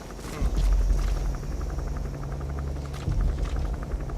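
A support helicopter arrives at a landing zone in the video game Metal Gear Solid V: The Phantom Pain, a low rotor rumble with rhythmic chopping that pulses louder twice, heard faintly at a moderate distance.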